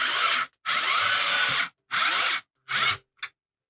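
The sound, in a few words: electric screwdriver driving screws into GameCube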